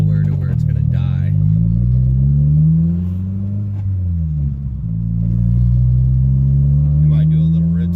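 A boosted EG Honda Civic idles with a loud, close, low rumble, its engine speed dipping and wavering before it settles again, while someone talks over the running engine.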